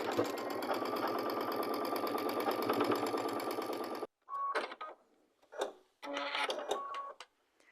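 A sewing machine stitching quilt pieces runs in a fast, steady mechanical chatter for about four seconds, then stops, followed by a few short bursts of whirring and clicking.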